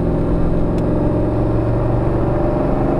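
Jeep Wrangler JK with a direct-injected L86 6.2-litre V8 and eight-speed transmission accelerating onto a freeway, a steady deep engine rumble heard from inside the cab, loud and constant.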